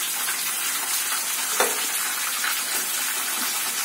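Onions frying in a pan for uppittu give a steady, close sizzle and hiss throughout, with one brief clatter of a utensil midway.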